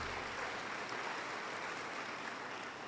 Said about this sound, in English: A round of applause for Professor Mansing,